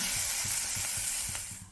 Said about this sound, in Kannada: ಇವಾಗ ಇದಕ್ಕೆ ಗಸಗಸೆ ಹಾಕ್ಕೊಂಡು ಒಂದು ಅರ್ಧ ನಿಮಿಷ 1 ನಿಮಿಷ ಬಾಡಿಸ್ಕೊಳ್ಳಿ